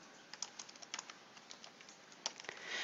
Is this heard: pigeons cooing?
no